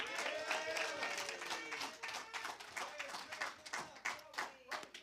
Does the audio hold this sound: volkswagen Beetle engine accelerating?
no